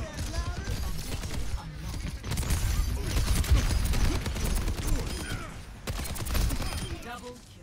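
Rapid gunfire from Soldier 76's pulse rifle in a competitive Overwatch match, steady bursts layered with game effects and a voice talking over the top.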